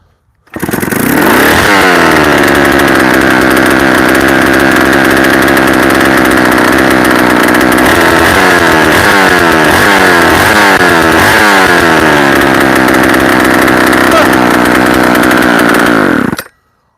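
A chainsaw fitted with a Chinese 272-type carburetor fires on the first pull and runs loud and steady for about fifteen seconds, revving and dropping back several times near the end.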